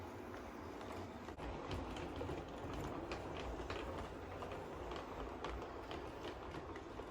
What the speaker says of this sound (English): I can't wait to see what the train looks like running through it